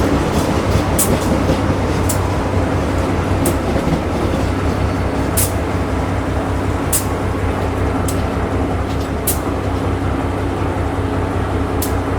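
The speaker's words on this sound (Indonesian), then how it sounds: "ini dia di sampingku adalah kereta api Pariaman Express" A passenger train hauled by a locomotive rumbles past close by, loud low roar with rhythmic clicks of wheels over rail joints every second or so.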